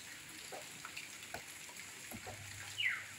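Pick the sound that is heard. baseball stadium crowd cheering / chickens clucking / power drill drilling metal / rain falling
rain falling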